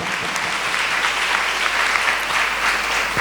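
A church congregation at a Sunday service in Kolkata claps together to thank God, a dense, steady wash of applause filling the room from start to finish with no voice above it.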